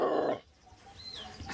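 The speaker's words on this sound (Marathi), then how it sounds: "आणि हा कुत्रा." A dog in a quiet Konkan village yard gives one short, fairly loud bark or yelp at the start, then there is near-silence with faint background sounds.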